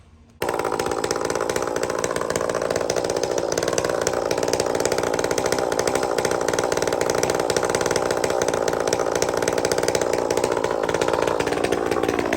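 Chainsaw cutting across knots in fir logs for stove wood, starting abruptly and then holding a loud, steady high-pitched snarl close by for the whole stretch, easing slightly near the end.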